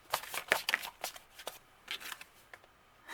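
A deck of tarot cards is shuffled by hand, close and fairly quiet, with a series of quick riffling bursts and soft slaps in an otherwise silent room.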